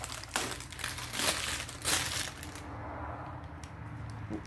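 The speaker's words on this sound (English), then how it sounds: "Remove the paper." Masking paper rustles and crinkles close up in several crisp bursts as a sheet is pulled off freshly primed 2009 Harley FXSTC bodywork and scrunched into a ball.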